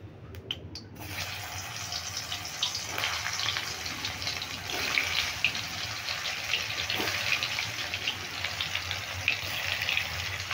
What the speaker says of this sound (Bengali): এবার পটলগুলো আমি দিয়ে দেবো একে একে।